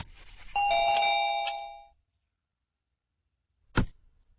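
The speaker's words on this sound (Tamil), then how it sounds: "யாருடா கரெக்டா சாப்பாடு டைம்க்கு பெல் அடிக்கிறாங்களேன்னு பார்த்தேன்" A doorbell chimes once close by in a quiet room, a two-tone ding-dong ringing out and fading, followed a couple of seconds later by a short sharp knock or click.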